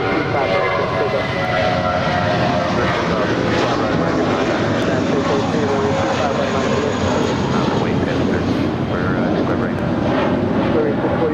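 A jet airliner roars steadily at Los Angeles International Airport, a loud, continuous broadband engine rush through the whole stretch, with a voice talking over it.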